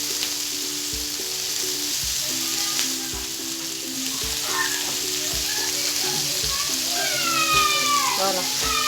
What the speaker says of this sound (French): Là, il faut faire frire les oignons.